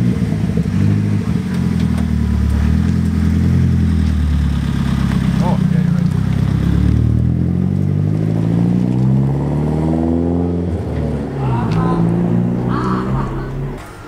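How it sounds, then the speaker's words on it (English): A Nissan 240SX fitted with Fortune Auto coilovers drives on a test run, its engine droning and rising and falling in pitch through gear changes, loud and close from inside, with people talking over it. "Taking it for a test drive."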